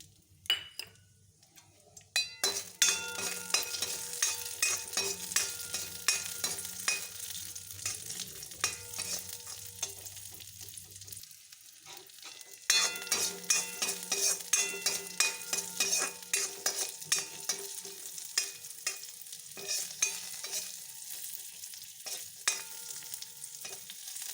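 Cashews and raisins fry in a little ghee in a pan, giving a steady close sizzle broken by frequent scraping stir strokes and light ticks from the utensil, with a short pause midway before the frying resumes.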